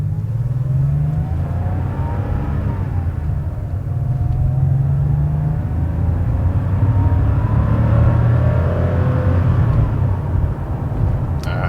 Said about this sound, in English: Classic air-cooled sound right there.